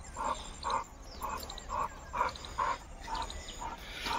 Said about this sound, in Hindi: वो आ रहा हमारा दूसरा कुत्ता भालू, जो रॉटवाइलर है